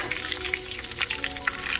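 Chicken keema samosas shallow-frying in oil, a close, steady crackling sizzle with fine bubbling pops throughout the short moment.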